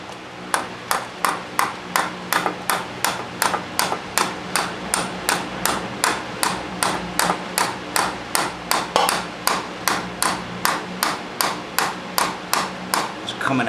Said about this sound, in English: so I can hammer it all the way through with this.